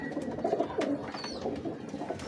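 Teddy pigeons, a breeder's birds, coo in soft repeated throaty phrases close at hand, with a few faint chirps mixed in and no voices.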